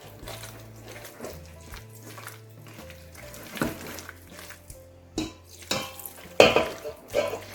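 A spoon scrapes and clinks against a bowl while fish pempek dough is stirred, with irregular knocks that grow louder and more frequent in the second half over a low background hum.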